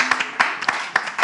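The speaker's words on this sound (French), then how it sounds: "On va applaudir l'invité." A handful of separate hand claps, about six sharp bursts spaced irregularly over a second, from an audience greeting a guest at a live French show; no talking over them.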